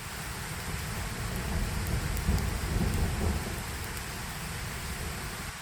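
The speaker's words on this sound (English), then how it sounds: "it seems as if there's some thunder coming again" Steady rain pours down in the woods during a solo survival overnighter, with a low, rolling rumble of thunder underneath, broad and continuous without any voices.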